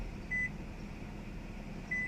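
Two short, clear electronic beeps from a 2017 Nissan Altima as its remote key fob touches the start button, spaced about one and a half seconds apart over a steady low hum, with no talking.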